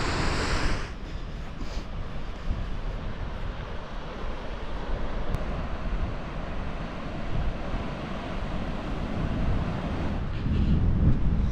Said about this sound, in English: the waves crashing underneath there, man